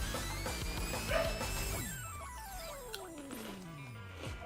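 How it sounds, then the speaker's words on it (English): A dog in Honkai Star Rail gives a couple of close, sharp barks and yips, followed by a long whining, descending tone, with quiet game ambience underneath. "dog is barking"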